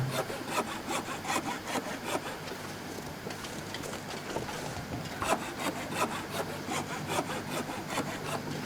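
A hand saw cuts through wood in The Long Dark survival game, giving steady rhythmic rasping strokes that carry on without pause, close and even, with no talk over them.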